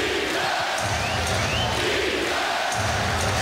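A sellout crowd of 19,800 roars and groans on its feet at a Raptors home basketball game against Kevin Durant's team. The dense, loud arena noise fills the space continuously, with faint whistle-like streaks in the mix.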